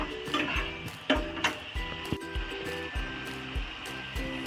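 Prawns frying in a pan in a homemade spice masala, a close, steady hiss with repeated clattering taps of a utensil against the pan, a louder knock about a second in, and no voices.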